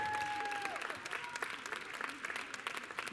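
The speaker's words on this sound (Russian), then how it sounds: "аплодисменты." An audience at a youth Latin dance competition applauds continuously, a dense steady clatter of many hands heard from a distance, with a faint tone fading out at the start and no talk.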